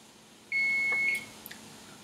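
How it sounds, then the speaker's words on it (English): A kitchen timer sounds a single sustained high electronic beep lasting under a second, loud and close, followed by faint kitchen clicks and no talking. "Timer went off"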